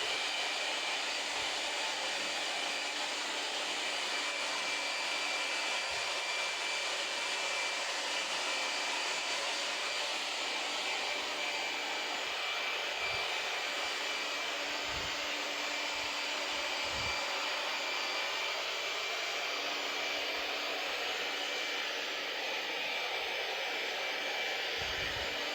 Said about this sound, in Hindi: कूल एयर से हम यहाँ पर जो है ना ड्राई कर रहे हैं